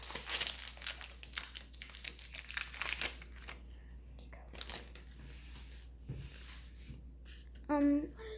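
Dollar Tree Pokemon card pack wrapper crinkled and torn open close up, bursts of sharp crackling plastic over a few seconds, with people talking quietly around it.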